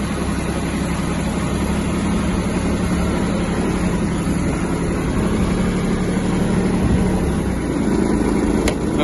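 A Japanese Kubota GB-180 mini tractor's small engine runs steadily with a rough, continuous low chug, close and unbroken throughout.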